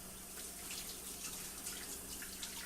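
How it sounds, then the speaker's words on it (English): Tap water runs and splashes as a coffee filter is rinsed in a sink, a steady faint hiss with light spattering, close and continuous. "all you do is rinse this off"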